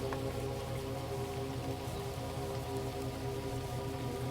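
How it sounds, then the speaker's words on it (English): Steady rain falls on a surface in an even, unbroken hiss at moderate loudness, with no voices or other sounds over the whole stretch. "The rain continues, steady, unchanged."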